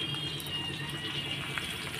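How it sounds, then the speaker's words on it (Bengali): A small splash of water from a rinsed bowl pours into a pan of onion, garlic, ginger and green chilli frying for a prawn curry, a brief, faint trickling gush. "জল দিয়ে দিলাম একটুখানি"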